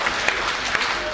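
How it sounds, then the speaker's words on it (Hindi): An audience at a Hindi poetry gathering (kavya milan) gives a sustained burst of dense, even applause at close range. "ताली बजाइए हाथ उठा के जोरदार।"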